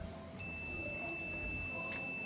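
A multimeter's continuity buzzer gives a faint, steady high-pitched tone over quiet background hiss while probing a Panasonic LED TV, with two brief clicks of contact.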